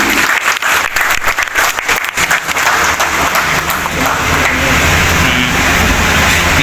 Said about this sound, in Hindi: बहुत सी तालियों में